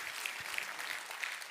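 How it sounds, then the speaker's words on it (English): A lightning talk audience at a coding event applauds, a short, even burst of clapping heard alone at low level. "That already deserves an applause"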